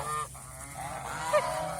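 A domestic goose at a farm gives a short, nasal honk or two, close and moderately loud, against a low background hum.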